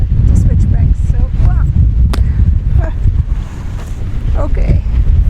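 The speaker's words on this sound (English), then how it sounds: "And now it feels amazing with this wind." Strong mountain wind buffets the microphone on a hike at Mono Pass in the High Sierra, a loud, continuous low roar with gusts, and a voice speaks intermittently over it.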